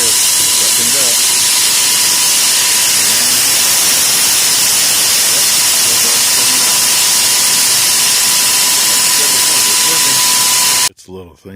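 Vacuum hose sucking up material, a loud continuous rushing roar close by that holds steady for about eleven seconds before cutting off abruptly.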